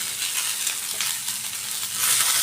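Capsicum (bell pepper) sautéing in hot oil gives a steady, close sizzle with faint stirring scrapes, getting slightly louder near the end, with no talk.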